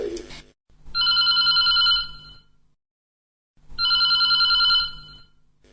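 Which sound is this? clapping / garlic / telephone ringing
telephone ringing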